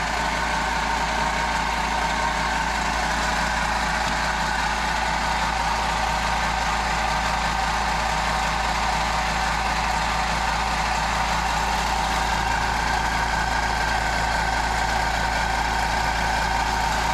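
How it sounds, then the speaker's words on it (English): An air compressor runs steadily at an off-grid homestead, a loud continuous mechanical drone with a constant low hum that holds unchanged throughout, no voices over it. "Compressor running, Sawzall."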